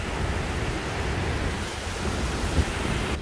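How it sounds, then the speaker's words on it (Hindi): Strong wind and rough sea waves pound the shore at a beachfront hotel in Belek, making a dense, steady roar of gusts and surf with no talking. "तो बहुत हवा चल रही है"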